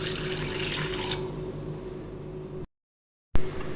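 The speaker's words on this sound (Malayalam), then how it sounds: "ആദ്യം നമുക്ക് അരിക്ക് വെള്ളം ഒഴിക്കട്ടെ" Water runs steadily from a tap onto rice in a container, a continuous hiss that stops abruptly partway through, then resumes briefly.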